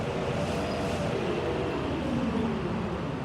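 A train pulls into a station in the commuter-management video game Overcrowd, a steady, unbroken rumbling wash of noise that holds at an even level throughout, with no voices.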